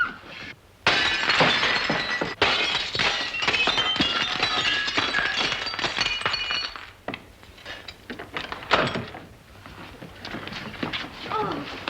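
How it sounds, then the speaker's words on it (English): Glass in a door shatters in a long, loud crash with scattered clinks and tinkling falling pieces, mixed with commotion and voices in a 1941 comedy film scene. "May I suggest, sir, that you break the glass?"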